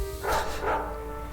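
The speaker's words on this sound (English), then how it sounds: "The dog barking." A dog in the Victorian London adventure game Heir of the Dog gives two quick, fairly loud barks in a row, heard alone and close.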